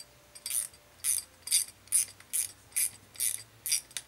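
A carriage bolt being tightened with a ratcheting tool makes eight or nine evenly spaced, crisp clicks at a steady pace, close and fairly quiet, with no talking.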